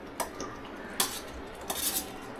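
Metal utensils clink against a pan as paneer goes into a simmering gravy, giving a few sharp, close taps and scrapes over a low kitchen hiss, with no one talking.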